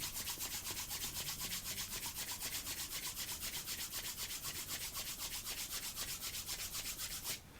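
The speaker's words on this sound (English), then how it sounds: "we bring our palms together and rub them briskly together 36 times to really warm them up" Palms rub briskly together to warm them at the close of a meditation retreat, a steady run of rapid, even swishing strokes, close and continuous, then stopping abruptly near the end.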